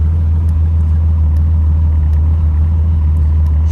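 A TVR Tamora's 3.6-litre engine idles while not fully warm, a loud, steady, low rumble with a strong even hum and no talking over it.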